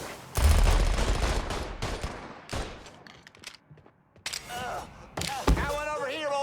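Bursts of automatic gunfire from the video game Mafia III ring out in rapid volleys, with loud clustered shots at the start and end and quieter gaps between. Voices shout over the shooting.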